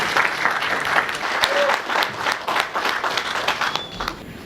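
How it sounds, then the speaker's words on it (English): A university seminar audience breaks into loud, dense applause, a crowd of hands clapping steadily close by for several seconds before tapering slightly, with a faint voice underneath. "Applause for them."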